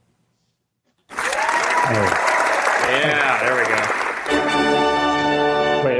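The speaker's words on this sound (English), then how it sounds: "Well, I did an applause and then I did a toot." A burst of applause from the video game Marble Madness erupts abruptly after a second of silence and continues loudly, with people talking over it.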